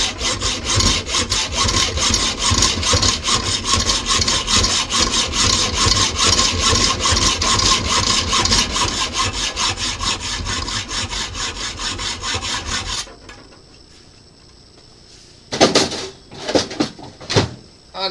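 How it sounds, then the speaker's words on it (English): A hacksaw cuts back and forth through a workpiece clamped in a vise, with dense, steady rhythmic rasping strokes for about thirteen seconds before stopping, followed by a few brief clunks. "So I'm just clamping it in a vise and getting out the hacksaw,"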